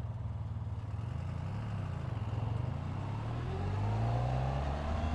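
A 2016 Honda VFR1200X Crosstourer motorcycle engine pulls hard from close by, its steady drone rising in pitch as it accelerates, with wind rush building and no talking.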